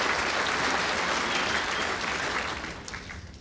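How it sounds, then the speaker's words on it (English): Applause at an indoor bowls championship after a winning delivery: a burst of crowd clapping that holds steady for about three seconds and then starts to fade, with no talk over it. "I think Mervyn King applauding that ball."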